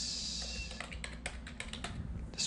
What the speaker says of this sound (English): And what we're going to do is type in